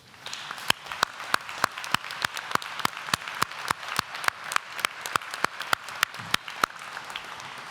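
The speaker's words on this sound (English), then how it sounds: "Let's give them a huge round of applause." A crowd at a university graduation ceremony applauds steadily, with sharp individual claps standing out over a dense, even wash of clapping that continues throughout.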